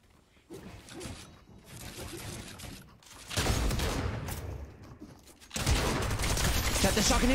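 Shotgun blasts in a video game, firing in bursts with mechanical racking between them, loud and fairly close, heavier volleys toward the end.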